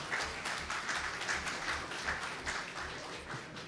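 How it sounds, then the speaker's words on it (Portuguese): A small group claps in applause for a guest in a talk setting, the clapping coming in uneven pulses and bursts at moderate level without any speech over it. "temos que dar uma salva de palmas para esse guerreiro."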